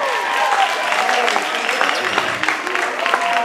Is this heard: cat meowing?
no